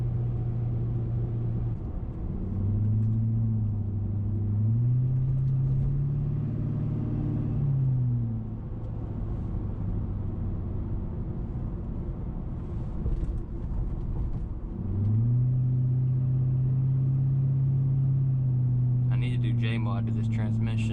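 A Grand Marquis with a 4.6 V8 and its muffler deleted gives a deep droning rumble whose pitch rises and falls with engine speed. It is heard steadily from inside the car, with someone talking over it.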